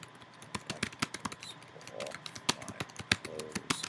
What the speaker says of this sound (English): You just have to watch while I type